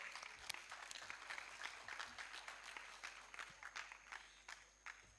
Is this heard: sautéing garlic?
no